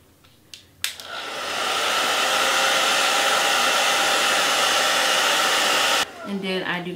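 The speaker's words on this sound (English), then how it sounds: "while you're blow drying it, kind of tap at it like you saw me doing it" A hair dryer blows steadily on a lace front wig, a loud continuous whoosh that runs for about five seconds after a few light taps, then cuts off abruptly, leaving quieter handling noise.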